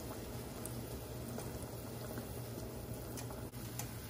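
Ramen noodles boil in a pot of water, a faint, constant bubbling hiss and patter that continues evenly without any voices.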